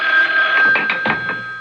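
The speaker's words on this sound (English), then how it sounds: "the phone was ringing." A telephone rings in an apartment in a 1970s radio mystery drama, a steady loud bell-like tone with repeated pulses filling the short stretch, heard alone with no talk.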